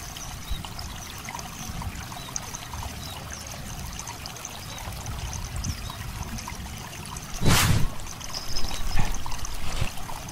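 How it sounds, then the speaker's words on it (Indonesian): Heavy rain pours down over a flooded rice paddy used as a fishing spot. A dense, steady hiss fills the whole stretch, swelling briefly with louder splashes near the end. "ini hujannya udah semakin deras nih"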